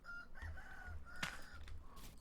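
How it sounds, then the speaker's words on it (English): Chickens cluck in the survival crafting game Vintage Story, a few short, bright calls spread across a steady low background, moderately close, with no talking. "Oh, and there's some chickens over here too."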